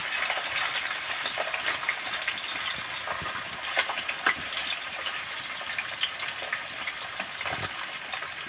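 Elephant foot yam (jimikand) frying in hot oil, a steady dense sizzle with scattered pops and crackles throughout, close and continuous.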